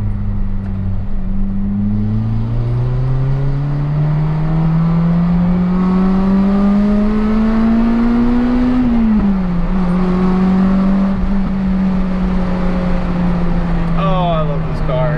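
A Honda RSX on aftermarket ESR 17x9 wheels drives around a school lot, its engine note climbing steadily through a long acceleration, then dropping at a shift and cruising on, heard from inside the car with a person talking throughout.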